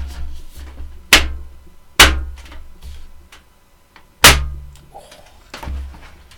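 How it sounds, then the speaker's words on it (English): An empty, hollow metal computer case takes a panel being fitted, giving several sharp clangs and thunks at irregular intervals with resonant ringing between, close and fairly loud, with no talk. "When you've got an empty case, everything becomes very hollow."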